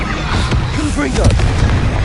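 A Confringo spell blast in a wizarding video game, one short booming burst amid crackling magic effects, with a voice heard over it.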